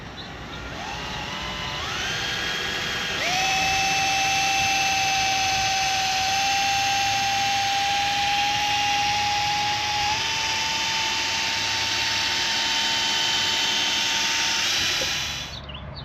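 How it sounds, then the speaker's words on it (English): A rotary machine polisher buffs car paint with 3M compound on a Toyota JZX100 Chaser, whining steadily and loudly as it spins up in stages and holds a high-pitched tone before winding down at the end. "So we're just gonna give this a quick little polish."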